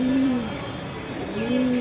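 A black racer pigeon coos with low, soft, drawn-out notes close by, two hums separated by a brief pause, over faint background noise.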